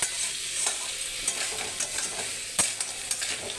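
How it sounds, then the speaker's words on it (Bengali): Marinated crab fries in a wok with a steady hissing sizzle, broken by a few sharp stirring scrapes and clacks, close and fairly loud with no voices. "আমি এগুলোকে সবকটা দিয়ে একসাথে ম্যারিনেট করে একসাথেই কড়াইয়ের মধ্যে ভাজবো।"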